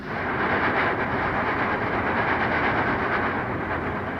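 Southern Pacific AC-8 cab forward steam locomotive rounding Chatsworth Curve, a steady moderate rumble and hiss of the passing train with continuous rolling noise and no clear individual beats.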